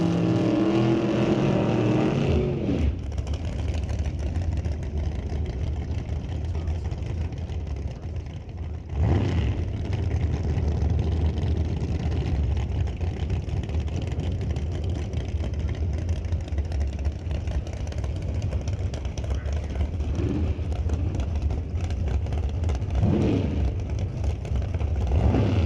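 Drag race cars at a Doorwarz event roaring through burnouts, a loud sustained engine drone with revving surges and brief dips, heard from trackside for about twenty-five seconds.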